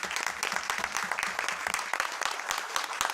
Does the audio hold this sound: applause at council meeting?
yes